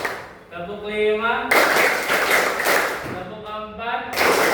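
A group claps hands in a counted classroom rhythm exercise, a burst of rapid broadband claps between stretches of a spoken voice, close and fairly loud.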